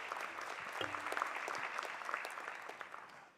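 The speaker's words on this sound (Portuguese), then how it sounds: "Salva de palmas," Round of applause at a solemn legislative session honoring labor lawyers, steady broadband clapping from a seated audience held at a moderate, fairly distant level across the whole stretch, fading slightly toward the end.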